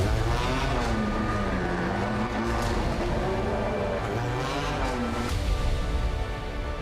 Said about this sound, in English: My favorite sound when the car is leaving the pits.